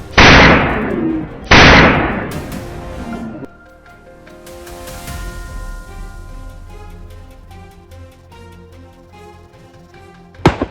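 Two loud, sharp gunshots ring out close together near the start and echo away during a wild boar hunt. A final sharp crack comes at the end.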